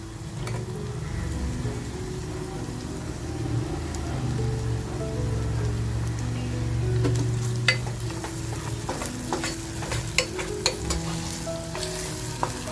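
Onion with turmeric frying in a pan for mutton curry makes a constant, fairly loud sizzle like rain on a surface, with sharper spatters and utensil clicks growing toward the end, and no talking.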